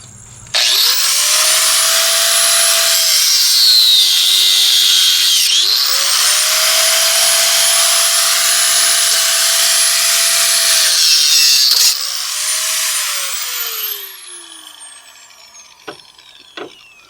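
A power tool cuts through a metal sway bar end link in a loud, high, whining grind. It runs in two long continuous passes, then tapers off with a few clinks.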